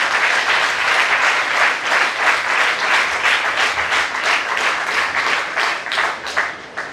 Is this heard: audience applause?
yes